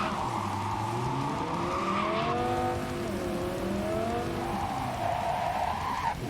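Quadra car engine from Cyberpunk 2077, a loud continuous hum that rises and falls in pitch as the car revs and accelerates, with some tire noise mixed in.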